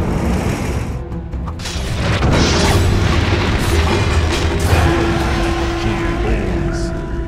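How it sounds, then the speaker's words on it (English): A tower collapsing in a professional Dota 2 esports match: a loud, rumbling explosion that swells and holds as a sustained crashing roar, with no voices. "Radiant's bottom tower has fallen."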